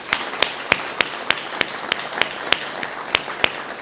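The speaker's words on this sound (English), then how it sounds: "I just want to really ask everyone to help me on applauding our panelists." A small audience applauds panelists at the close of a project info day, with sparse, distinct claps spaced roughly evenly, fairly near and moderately quiet, with no voices.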